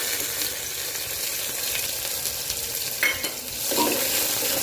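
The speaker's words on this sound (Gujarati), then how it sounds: "સરસ ડુંગળીને બ્રાઉન કલરની થાય ત્યાં સુધીને શેકવાની છે" Chopped onions sizzle in hot oil with mustard seeds in a pan while being stirred to brown for a pea and potato curry, a steady close frying hiss broken by scraping stirs.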